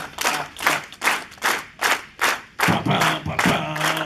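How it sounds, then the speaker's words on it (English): An anime convention audience claps along in rhythm to a song, sharp unison claps landing about twice per second with crowd voices joining in near the end. "Oh, you guys got to do this. Clap, clap,"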